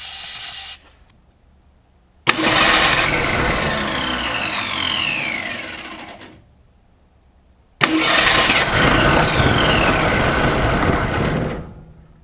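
A 1966 Ford Falcon engine, primed with carb cleaner, cranks and catches twice, each time roaring loudly for several seconds before cutting out, with brief quiet gaps between the two runs.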